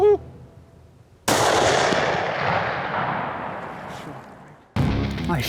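A single loud, close gunshot fired while hunting a fox, a sharp blast followed by a long rolling echo that fades out before a second burst of noise.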